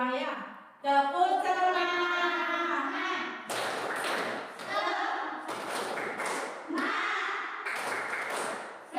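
Schoolchildren in a classroom chant tepuk semangat together, with voices sung in rhythm and broken by bursts of unison clapping and taps.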